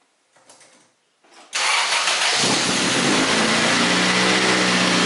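A car engine cranks briefly after an oil pan leak repair, then catches and settles into a loud, steady idle close by.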